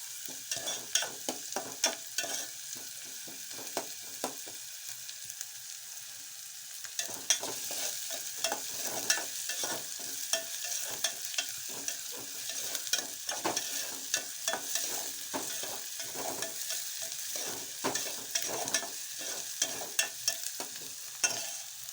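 Okra stirred and fried in hot oil for a Kannada-style palya, a steady crackling sizzle with repeated scraping strokes of a spatula against the pan, close and continuous with no talk.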